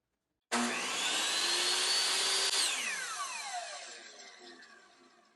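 A Metabo HPT C10FCG(S) 10-inch compound miter saw motor starts abruptly with a loud whine, runs steadily for about two seconds, then the electronic brake drops the pitch as it winds down over a couple of seconds.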